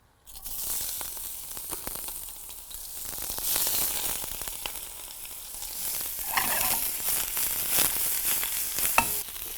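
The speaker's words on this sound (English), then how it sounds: "we're going to put the oil in there and then the onion first" Onion frying in smoking-hot oil in a preheated pan, a dense, steady crackling sizzle that rises midway and stays loud throughout, with scattered sharp pops and no voices.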